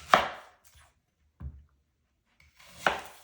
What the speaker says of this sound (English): I'm just gonna slice it up.